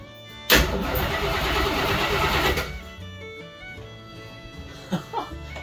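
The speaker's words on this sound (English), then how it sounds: "Awesome, we got the motor to crank finally." A 1976 AMC Gremlin with an AMC 360 V8 cranks over loudly for about two seconds in a steady churning burst, then drops to quieter workshop noise with a couple of brief knocks near the end.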